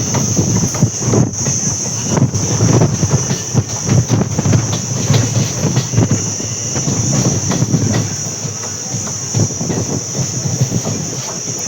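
A train rolls between stations near Jetalsar Junction, loud and close, with a continuous rumble, rhythmic clickety-clack of wheels over rail joints and a sustained high metallic squeal running throughout.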